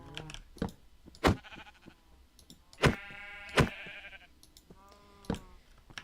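Sheep in the Minecraft video game bleating several times in short, nasal bursts, spaced irregularly between sharp clicks and soft game sounds, clear and close with no talking.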